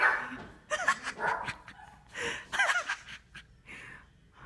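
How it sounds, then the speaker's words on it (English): Close, excited yips, whimpers and short barks from a heavy pug come in rapid bursts with brief pauses, wheezy and breathy between calls, loud and alone without talk. "Every time I come home, Humphrey barks because he doesn't know who it is."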